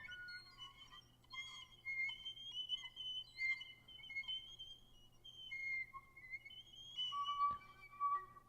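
Thin, airy flute whistle tones sliding between high pitches, with faint overtones and a low steady hum beneath, quiet and eerie.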